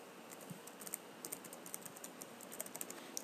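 Someone types steadily on a computer keyboard while entering spreadsheet text. The soft, rapid keystrokes run continuously over a faint background hiss.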